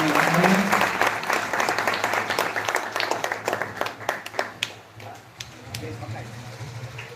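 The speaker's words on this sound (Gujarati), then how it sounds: "જોરદાર એકવાર તાળીઓના નાદથી" Audience applause at a Swaminarayan religious gathering ahead of a pilgrimage walk to a Hanuman temple, loud dense clapping from a crowd that thins into scattered individual claps toward the end.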